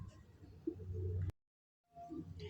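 A bird coos softly in low repeated notes, cut off by a brief silence, then faint cooing and rustling resume.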